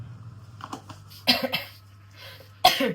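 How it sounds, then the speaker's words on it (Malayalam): Three sharp coughs, close and loud, separated by pauses, with a steady low hum running underneath. "ഇത് എടുത്തുകൊണ്ട് നന്നായിട്ട് ചുമയ്ക്കുന്നുണ്ട്"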